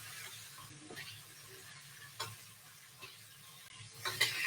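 Meat being basted in hot fat, a faint steady sizzle with a few sharp ticks and spoon-like scrapes, fairly quiet and close, no talking over it.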